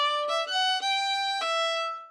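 A bowed fiddle plays a short run of notes, stepping down and settling on a sustained, resonant open string, clear and close with no talking.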